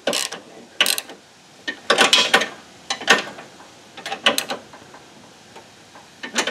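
A wrench tightening a nut on a hydrostatic drive while a loose bar is held steady, giving bursts of close ratcheting clicks in uneven groups, with short pauses between turns.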